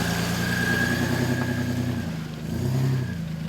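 A Toyota 80 series 4WD engine revs hard on a steep off-road climb, a loud sustained roar that dips briefly and then surges again, with no voices.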